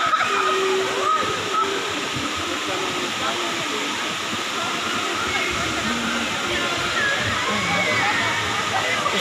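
Waterfall at Casilak in Corella, Davao del Norte, giving a loud, continuous rushing roar with steady broadband hiss throughout, while people talk nearby over the water.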